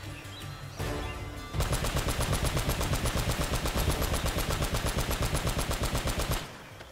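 Sustained rapid automatic gunfire from the Uncharted 1 video game, a dense continuous burst of loud machine-gun shots lasting several seconds after a brief lead-in of noise.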